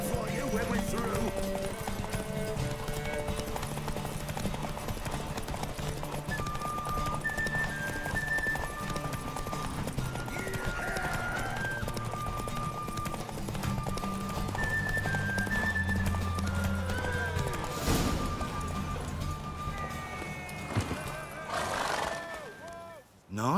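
Hooves clip-clop steadily as a horse gallops in a video game race, with whinnies and neighs breaking through over a continuous bed of game music and ambience.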